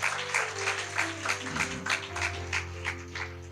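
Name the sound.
audience applause at a church programme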